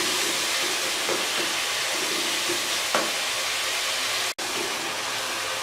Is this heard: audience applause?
no